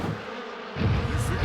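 A swarm of bees buzzes in a dinosaur cartoon, a continuous droning hum that swells louder and closer in the second half.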